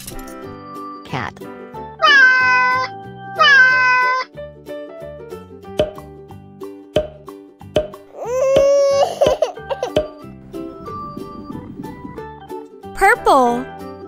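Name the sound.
cat meowing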